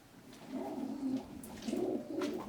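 Pigeons coo in soft, low, rolling phrases inside an abandoned old cinema near its projectors, two or three bursts with faint rustling, fairly close in a quiet, echoing room.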